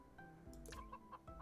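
Chickens clucking in the farming video game Farmtale, a few short repeated clucks and calls heard alone, quiet but clear with brief pauses between them.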